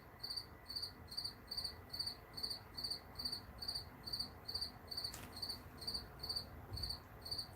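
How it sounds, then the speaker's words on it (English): Crickets chirp in steady, evenly spaced pulsing trills through a quiet morning, with a faint low background murmur beneath them. "I guess if the crickets gotta sing, I'm not gonna prevent them."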